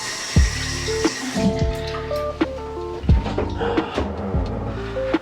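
Water runs at a bathroom sink while someone washes their face: a steady, close flow broken by splashes and several sharp knocks against the basin.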